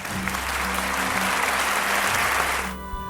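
Sustained applause from a school audience welcoming first-year pupils at a Hogwarts-themed primary school event, a dense steady wash of clapping that cuts off abruptly near the end.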